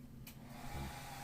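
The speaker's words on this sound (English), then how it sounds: "right now what I'm doing is I'm getting a hair dryer" A hair dryer blowing across freshly poured paint gives a short, faint, steady airy whir with a low hum, heard alone.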